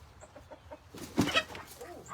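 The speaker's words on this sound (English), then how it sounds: "Everybody's scared of this damn rooster." Rooster on a goat farm clucking in short bursts, with one louder, closer squawk in the middle, over quiet farmyard background.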